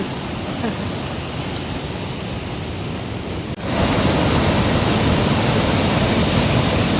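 Loud, steady rush of a flowing river fills the scene, growing noticeably louder and fuller partway through, with no talk.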